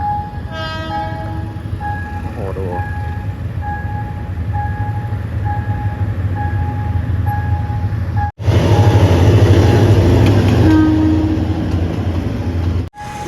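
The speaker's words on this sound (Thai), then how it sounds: "มีขบวนรถนะครับผม" A train passes the Si Ayutthaya Road railway crossing in the evening, with a steady bell tone, a rumbling approach and a loud, close roar of rolling wagons that cuts in abruptly and fills the second half.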